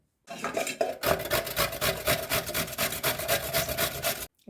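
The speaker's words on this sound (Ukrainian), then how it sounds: "Так гарненько перетерся вже кабак, гарбуз." Steady, rhythmic rasping as firm pumpkin is rubbed back and forth over a grater, close and continuous for several seconds.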